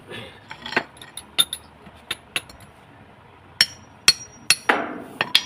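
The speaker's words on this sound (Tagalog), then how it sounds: "Martilyo lang ang kailangan ko." About a dozen sharp metallic hammer blows ring out on an electric fan part in irregular bursts, separated by short quiet pauses.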